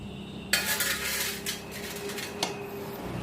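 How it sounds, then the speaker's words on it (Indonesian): A carburetor drain bolt is loosened with a metal tool, giving a few sharp metallic clinks and scrapes against a steady low hum, close and moderately loud. "Jadi baut pembuangan ini yang di karbu kita longgarkan ya."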